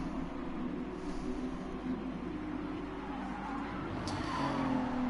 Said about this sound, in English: So you're gonna hear a lot more tyre squealage